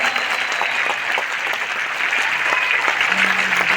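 Loud, dense applause from a gathered audience at a motivational business talk, with sustained clapping holding steady throughout and no pause.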